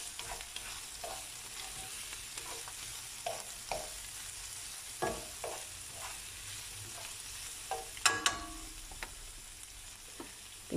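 Salmon being stirred in a sizzling frying pan while cooking for salmon spaghetti with pesto, a soft continuous sizzle broken by repeated scraping and clinking strokes of a utensil, close and fairly quiet, no talk.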